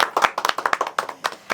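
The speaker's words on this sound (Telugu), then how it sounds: "చప్పట్లు కొట్టండి" A few people clap their hands at a birthday gathering, producing a quick, uneven run of close, sharp claps.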